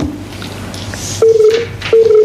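Telephone keypad tones beep during a live radio call-in show as the host tries to connect callers, two steady tones standing out clearly over quiet studio background.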